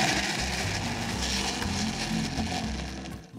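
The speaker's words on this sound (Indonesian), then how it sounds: "Masuk cili dan bawang putih dalam blender." A dry blender grinds fresh chilies and garlic cloves, its motor droning steadily with a gritty, crushing rattle, then winding down sharply at the end.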